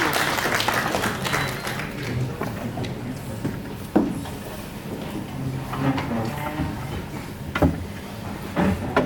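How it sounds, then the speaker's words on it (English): A seated audience at the Indian Cheese Festival 2025 gives a warm round of applause as guests take their places on the dais. The dense, steady clapping fills the hall, with a few sharper knocks standing out. "May we please welcome them with a warm round of applause,"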